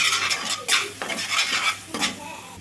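A spoon stirs cumin powder into chole masala, a chickpea curry frying in a pan, with repeated close scraping strokes over a steady sizzle.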